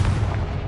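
A Confringo blasting spell bursts in Hogwarts Legacy, a single heavy booming explosion with deep low rumble filling the short moment, loud and close with no talk.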